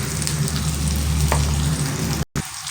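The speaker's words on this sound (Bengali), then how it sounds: "এবারে এর মধ্যে কেটে রাখা আমি ঝিঙেগুলো দিয়ে দিলাম" Chopped ridge gourd fries in hot oil in a pan, giving a loud, steady, close sizzle that cuts off briefly just before the end.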